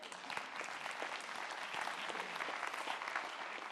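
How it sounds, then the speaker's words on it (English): Audience applause at a Power of 10 2014 talk, a steady wash of many hands clapping at an even level, soft and somewhat distant, with no speech over it. "You can applaud, it's okay."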